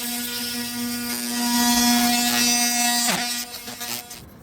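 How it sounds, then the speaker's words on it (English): Oscillating multi-tool fitted with a dull blade scraping old sealant off a gel coat fiberglass RV roof, giving a steady close buzzing drone with scraping texture that rises mid-way, then falters and stutters near the end. "I can use an oscillating tool with a dull blade on it."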